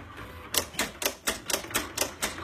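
Silhouette Cameo 3 cutting machine tapping as it cuts, with a quick, even series of sharp close clicks, about three to four per second.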